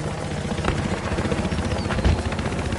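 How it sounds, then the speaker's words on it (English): Transport helicopter in the video game Battlefield Hardline, its rotor thumping in a dense, continuous wash of noise with a few sharp hits mixed in, loud and close throughout. "That's a transport chopper."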